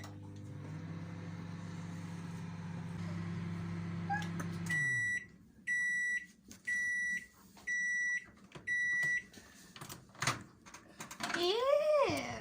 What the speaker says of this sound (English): Just put them in the microwave and heat them up.